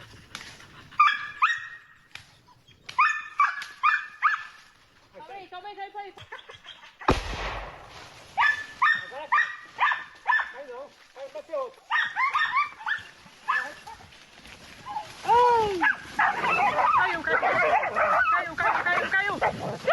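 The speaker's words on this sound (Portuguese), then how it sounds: "matando uma onça e incentivando os cachorros dela a atacarem o animal" Dogs barking, yelping and whimpering while attacking a jaguar, with bursts of sharp barks, a loud bang midway, and frantic overlapping yelps and snarls close by; no clear speech heard.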